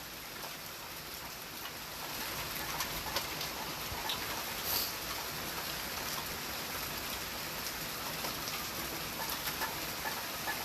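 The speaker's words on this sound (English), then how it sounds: "Are you raining and cold like I am?" Steady rainfall patters densely on surfaces, a constant wet hiss with scattered drops standing out, no talking.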